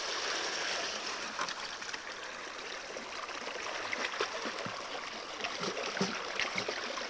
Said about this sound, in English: pour off the excess water.